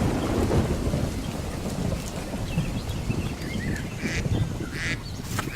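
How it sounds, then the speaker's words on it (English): Thunderstorm sound effect with steady heavy rain, rolling low thunder rumbles and a few faint duck-like calls, loud and continuous with no voices. "Storms raged around him, tossing him in the night."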